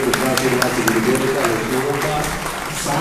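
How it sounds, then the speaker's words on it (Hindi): Audience applause at a Guru Purnima gathering in a Delhi temple hall, steady dense clapping throughout at fairly close range, with voices mixed in underneath. "सभी लोग गोदारी से ताली देंगे इनके लिए"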